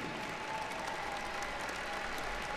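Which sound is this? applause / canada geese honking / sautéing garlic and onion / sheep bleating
applause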